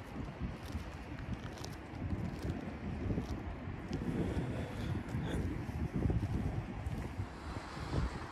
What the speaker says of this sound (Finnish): Niin, vähän pientä tuulta.